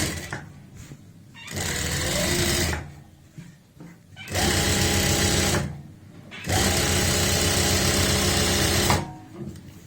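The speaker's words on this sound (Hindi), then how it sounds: "यहाँ पे भी हम डबल सिलाई लगाएंगे" Sewing machine double-stitching the seam of plazo pants, running in three loud, steady bursts of a few seconds each with brief pauses between them.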